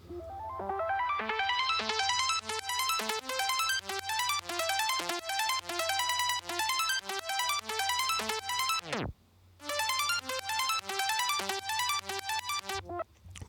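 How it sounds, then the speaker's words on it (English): Dense, distorted electronic synth pattern with a steady low drone, building in rapid repeated stabs and a pitch-sweeping riser that drops away before the bright, effected sequence returns, loud and continuous for several bars. "which is this drop up sound"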